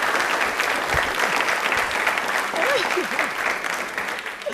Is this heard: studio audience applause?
yes